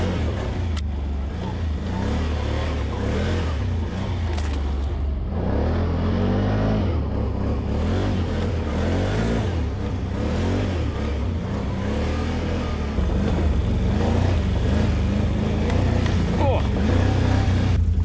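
The engine of a 2021 Can-Am Outlander 850 XT ATV drones and revs steadily close by on a test ride in normal mode, while a rider talks over the running motor throughout.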